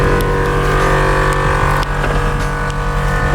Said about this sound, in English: I'm gonna leave it on idle and get in the passenger side here